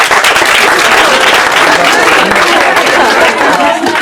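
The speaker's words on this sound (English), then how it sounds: "A big clap for this interface. I say clap!" Audience at a school event applauds loudly and steadily, with dense clapping mixed with crowd chatter throughout.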